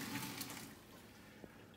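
Water from a pot of boiled, very soft potatoes being poured off through a strainer, a steady close gush that runs continuously and eases slightly toward the end.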